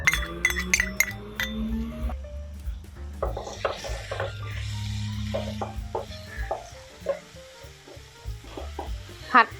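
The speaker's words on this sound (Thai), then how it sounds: "พอน้ำมันร้อนเราก็ใส่เครื่องที่ตำลงไปเลยนะคะ" Pounded Thai spice paste sizzling in hot oil in a wok, with sharp clinks of a utensil against the pan near the start and scattered scraping and stirring throughout.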